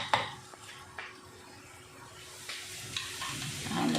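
Tofu for sisig frying in a pan, giving a faint, steady sizzle with a few light clicks and scrapes of cooking, heard up close with no talking.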